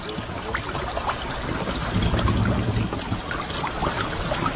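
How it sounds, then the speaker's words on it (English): Water trickles and pours steadily into a sinking car, swelling briefly in the middle, a continuous wet rush heard up close from inside. "So the car is still floating, it's still filling with water."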